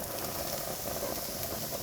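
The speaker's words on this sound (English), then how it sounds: "you can hear lots of sizzling, which is a really good sign" Dense, steady sizzling of onions frying in a hot pan, a continuous close hiss with no talking.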